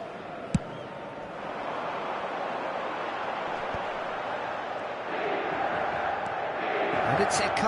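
Stadium crowd noise in a football video game, a steady roar of cheering that swells louder toward the end, with a commentator's voice over it.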